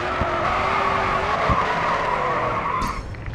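Car drifting around a corner in the GRID 2 racing game, tires skidding and squealing steadily over a loud engine, sliding sustained for several seconds before easing off at the end.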